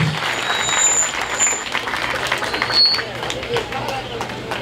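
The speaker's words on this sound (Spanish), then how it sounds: "háganos un aplausito para empezar, pues con fuerza" Studio audience applauding with force on a Peruvian comedy show, a dense steady wash of clapping lasting several seconds with crowd murmur mixed in.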